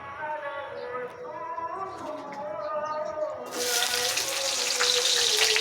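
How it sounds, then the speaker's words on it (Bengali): Dried loitta fish, shutki, frying in a little oil in a wok, a sizzle that swells into a loud bright hiss partway through, with a voice talking and background music underneath. "এরপর সবগুলো দিয়ে দিল, দিয়ে ভাজি করবো অনেকক্ষণ করে ভাজবো"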